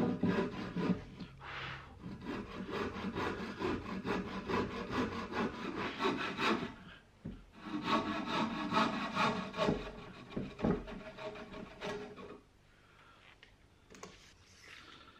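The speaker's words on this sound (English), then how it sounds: "So this tenon saw is what I'm using." A hand tenon saw cuts through wooden legs for an outdoor coffee table, a close, rasping back-and-forth of steady strokes in two long bursts with a short pause between them, then stopping.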